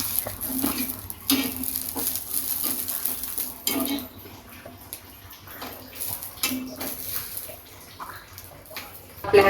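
Raw green chillies dry-roasting in a pan, with scattered sizzles, pops and the scrape of stirring against the metal, uneven and close, with quieter gaps between bursts.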